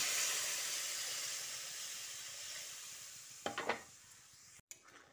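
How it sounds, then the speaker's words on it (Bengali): Spiced potato and drumstick curry with tomato being stirred after about a cup of water is added, giving a steady sizzling hiss with a few short scraping stirs near the end, close and fairly quiet. "জলটা দিয়ে সব কিছু ভালো করে মিশিয়ে নিয়েছি।"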